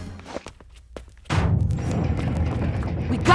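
A heavy blast or gunshot from the Jak II game hits after a few faint thuds, followed by a loud, sustained rumbling roar of battle noise.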